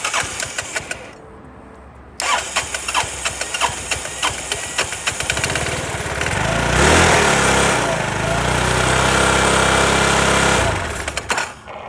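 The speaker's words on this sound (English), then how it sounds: "It's making weird noises, but it's still running." A small gasoline engine running on dish soap in place of oil sputters and knocks roughly, loud and close, then settles into a harsher sustained run for several seconds before stumbling again.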